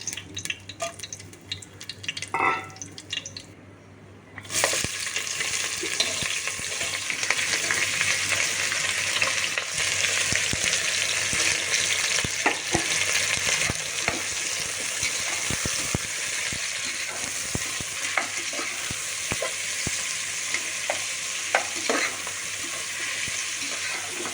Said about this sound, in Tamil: இப்போ நம்ம எடுத்து வச்ச ஸ்பைசஸ்லாம் செஞ்சுக்கலாம்